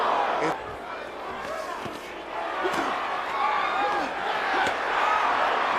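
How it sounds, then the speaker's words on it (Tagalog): A large arena crowd roars continuously throughout a Tyson vs Ruddock boxing match, loud and swelling, with a commentator talking over the din. "Crowd erupt."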